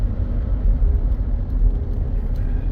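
A Ford F150 with a faulty 10R60 transmission drives along, its engine and road rumble a steady, loud low drone with only slight swells where gear changes may fall, no voices over it.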